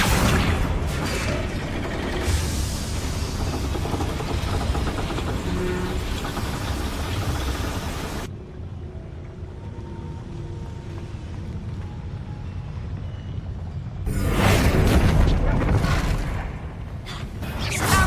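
A loud fiery blast from a Confringo spell in the Hogwarts Legacy game, a dense roaring burst that cuts off abruptly, followed by a quieter rumbling stretch and another surge of explosive noise.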